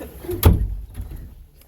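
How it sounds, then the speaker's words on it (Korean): A classroom door closes with a single firm thud, close by and fairly loud, its sound fading over the next second with no talk. "문을 닫고 들어가야죠"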